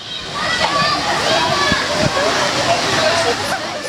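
Schoolchildren splash and slosh in a city fountain in Zhytomyr, with steady rushing water and irregular splashes close by, under voices talking.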